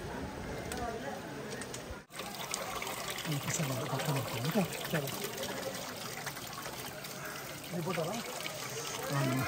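Hill spring water trickles and pours steadily in the Nallamala forest near Saleshwaram, faint birdsong mixed in and people talking throughout.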